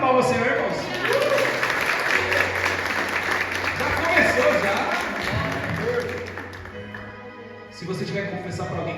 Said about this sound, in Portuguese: dá uma salva de palmas, Senhor, irmãos